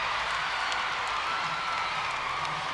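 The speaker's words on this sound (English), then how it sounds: "Listen to this crowd respond to Haley Bryant." Steady crowd applause with scattered cheers for gymnast Haley Bryant at a West Virginia versus LSU gymnastics meet, a continuous dense wash of clapping heard from within the arena.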